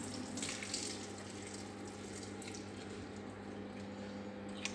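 Water is poured out of a container while fruit salad is being made, a faint, steady trickling and splashing that runs throughout, with no talking.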